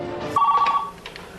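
A cell phone rings during an altitude test at 1,000 feet: a short, clear electronic ringtone sounds once, close and fairly loud, with a faint trailing tone after it and no talking.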